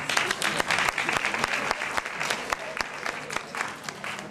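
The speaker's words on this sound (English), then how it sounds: "give him one more round of applause" An audience at a campus talk gives a pre-law political science student another round of applause, a moderately loud wash of clapping with sharp individual claps punching through close by.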